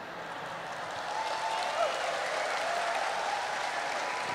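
Audience at an Islamic religious sermon breaking into steady, sustained applause, a broad wash of clapping that builds slightly and stays even throughout.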